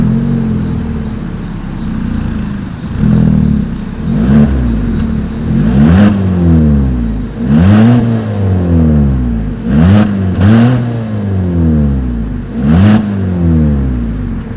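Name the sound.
car exhaust revving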